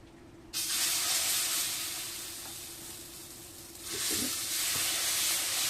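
Dosa batter hits a hot pan with a sudden loud hiss that settles into a steady sizzle, then swells again with a second rush of frying noise, close up and alone.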